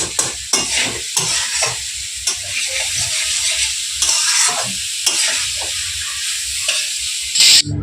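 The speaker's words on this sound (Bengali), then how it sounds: "মাংস এখন কষা চলছে" Meat being sautéed kosha-style in a pan, a close, steady sizzle punctuated by repeated sharp scrapes and clanks of a spoon stirring against the metal, with a brief louder hiss near the end.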